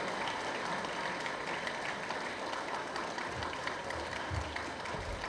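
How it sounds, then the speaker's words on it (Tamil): Applause from an audience at a school education department event in Tamil Nadu: a continuous, even roar of many hands clapping, somewhat distant, holding steady throughout. "ஆமாம் என்றால் நல்ல ஒரு கைத்தட்டு வேணுமே எனக்கு."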